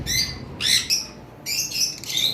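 Lovebirds, albino and red-headed opaline types among them, give sharp, high chirps in several quick bursts close by, with no talk over them.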